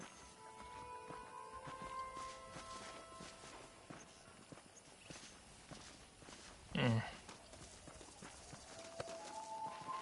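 Horse hooves clip-clop at a steady walking pace in the Red Dead Redemption video game, fairly close, with a single louder snort or thump partway through and faint speech in the background.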